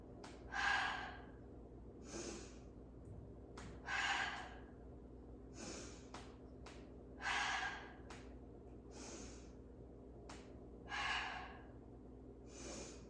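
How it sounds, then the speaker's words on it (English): Pilates breathing during a lower-ab workout: about five forceful open-mouth exhaled "ha" breaths alternating with short nasal sniffs, close and clear over a low steady background hum, with no talking. "So it sounds like a ha through the mouth and a sniff through the nose"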